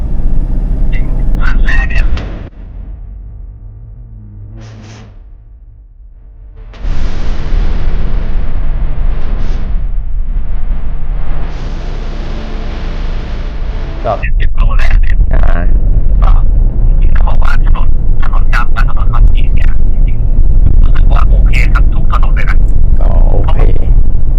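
A Stage 1 tuned Toyota Vigo pickup engine on its first test drive, a loud rumbling roar that drops away and then surges back in heavy bursts, with people talking.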